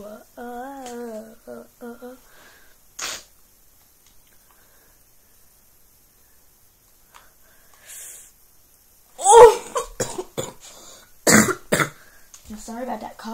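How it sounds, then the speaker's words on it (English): A single person's cough, short and close, among scattered vocal sounds and brief bursts of speech in a mostly quiet room. "sorry about that cough, though."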